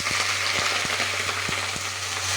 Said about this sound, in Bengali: ফুলকপিটা আমি এখন দিয়ে দিব আর হালকাভাবে একটু ভেজে নিব।